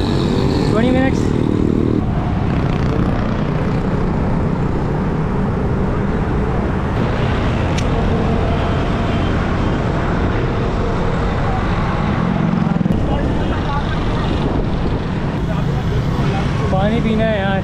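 Dense rush-hour traffic in Karachi, heard from a bicycle: a steady, loud roar of engines with motorcycles buzzing close by and occasional horn-like tones, continuous throughout with no let-up.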